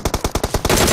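Rapid automatic fire from an M4 rifle in the mobile game PUBG Mobile, about seven sharp evenly spaced shots followed by a dense continuous burst, loud and close with no talk over it.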